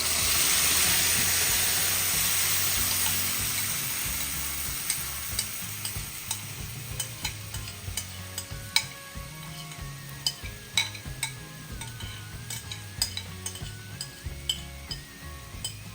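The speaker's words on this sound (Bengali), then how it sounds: "এবার আমি এটা তেলে ছেড়ে দেব।" Bay leaves dropped into hot oil for a coriander-leaf dish, a loud initial sizzle easing into steady frying hiss, with repeated clinks of a utensil stirring against the metal pan.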